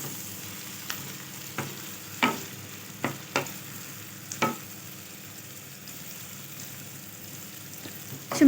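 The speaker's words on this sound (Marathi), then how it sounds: "मिक्स करून घ्यायचं छान आणि 3 ते 4 मिनटं चांगलं परतवून द्यायचं याला मीडियम गॅसवरती" Capsicum sautéed in butter over medium heat for pav bhaji, a soft, quiet sizzle broken by several sharp spatula scrapes and taps against the pan, close with no talking.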